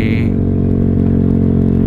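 A motorcycle rides along with a loud, steady engine drone and some road noise, heading back alongside a friend's Suzuki GSX that is running poorly.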